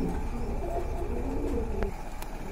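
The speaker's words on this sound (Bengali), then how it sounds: "খুবই কিউট এক জোড়া কবুতর" Pigeons coo in low, throaty, rolling calls, close by and continuous, with a few faint chirps and a soft click near the end.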